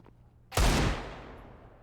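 A single sharp P250 pistol shot cracks out in Counter-Strike on the Mirage map, loud and close, with a burst of impact and reverb that trails off over about a second after a quiet lead-in.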